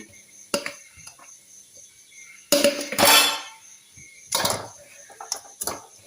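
Spiced masala chitranna rice is mixed in a pan, with a couple of loud scraping, clattering bursts of the spoon against metal separated by quieter gaps and small taps.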